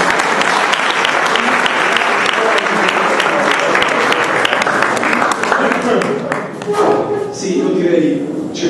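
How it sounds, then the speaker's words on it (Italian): A seated audience applauds at a talk on faith held in Palazzolo Acreide, Sicily. Loud, dense clapping runs for several seconds, then thins and fades as murmuring voices take over near the end. "Grazie, un applauso."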